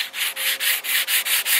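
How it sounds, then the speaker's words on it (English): A bamboo bow is sanded by hand, close up, in about eight steady rhythmic strokes, each a dry scratchy rasp with short gaps between them. "I'm gonna sand all these connections, make this as smooth as I possibly can."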